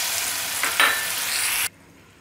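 Ground cumin, coriander and ginger-garlic paste sizzle loudly in a hot pan, a steady bright frying hiss with a brief surge as the paste goes in, then cutting off abruptly.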